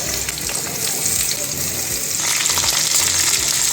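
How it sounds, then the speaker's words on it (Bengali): Taro and potato chunks frying in a pan of hot oil with cumin, a steady loud sizzle and crackle that continues throughout, with faint stirring and no voices. "নাড়িয়ে কচু আলুটাকে একটু ভাজা ভাজা করে নেব।"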